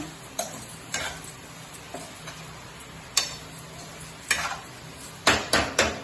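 Spoon stirring onion powder and coriander powder into an egg masala curry in a pan, with scattered soft scrapes and taps against the pot and a few clustered clinks near the end, no talking.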